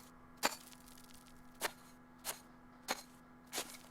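Digging a hole in the video game Rising World: four sharp, separate impact sounds spaced about a second apart, clear over a low steady background hum.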